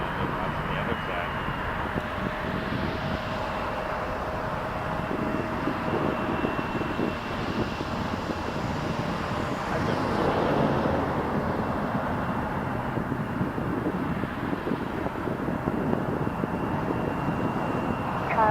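A Boeing 787 airliner at Toronto Pearson airport roars steadily on its takeoff roll, a broad continuous engine rumble that swells slightly midway, with airport radio chatter running over it.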